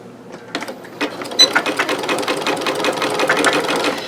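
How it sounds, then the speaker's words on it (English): A sewing machine zigzag-stitches rope for an oblong bowl, starting with a few separate clicks, then running as a fast, steady mechanical rattle of needle and gears, close and alone. "Now I'm going to go back and continue zigzagging."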